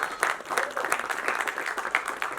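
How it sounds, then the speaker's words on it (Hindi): Audience applause for a crew member at a film trailer launch event, a steady bright patter of clapping from a crowd with a few louder peaks, close and continuous throughout. "एक तालियां इनके लिए होनी चाहिए।"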